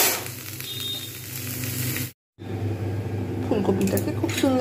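Cauliflower fries in hot oil in a pan, a close steady sizzle that cuts out briefly and then resumes with crackling spits.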